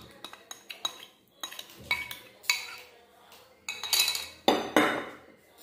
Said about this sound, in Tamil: இப்போ இதெல்லாம் சேர்ந்து நல்லா மிக்ஸ் பண்ணி விட்டுக்கலாம்